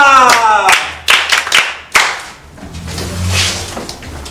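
A few sharp claps, then a short burst of scattered clapping from a small group, mixed with voices talking loudly nearby.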